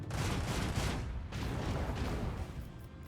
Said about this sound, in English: Salvo!